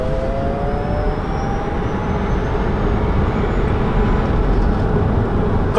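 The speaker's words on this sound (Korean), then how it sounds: "다시 가속 한번 해보겠습니다." An electric car accelerating hard on a test drive, with a steady loud rush of road and wind noise and a faint rising electric-motor whine, no voices.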